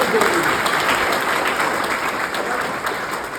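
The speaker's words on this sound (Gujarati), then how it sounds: "એટલે પાડો તમતાર તાળી" A seminar audience at a college claps together, a dense, steady round of applause that fades slightly toward the end.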